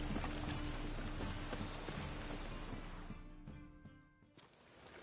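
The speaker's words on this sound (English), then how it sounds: "Rain again." Rain falls in The Witcher 3, a steady dense hiss of drops that fades toward the end, leaving faint scattered clicks and low rumble, with no talk over it.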